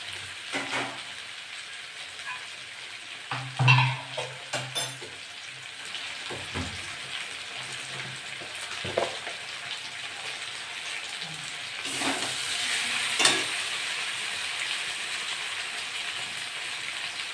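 Potatoes and eggplant sizzle and crackle in a hot pan, with occasional scraping and stirring clatter over the steady frying hiss.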